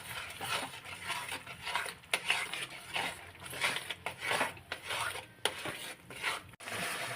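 Potatoes with spices and turmeric powder are stir-fried in a pan: a metal spatula repeatedly scrapes and knocks against the pan in an uneven rhythm over a low sizzle, close and fairly quiet.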